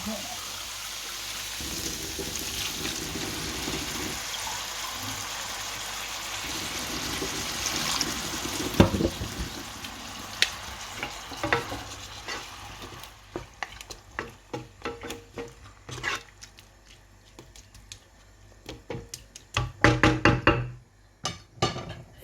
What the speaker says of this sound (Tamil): கொஞ்சம் தண்ணி விடுவோம்